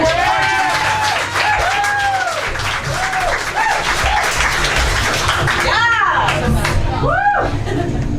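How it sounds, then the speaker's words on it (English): Audience applause and cheering at a Toronto stand-up comedy competition show, a loud, sustained wash of clapping from a full room with voices and a host talking over it throughout. "I still got an applause break"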